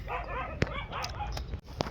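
Farm dogs yip and bark a few times, fairly faint and distant, over a low background rumble.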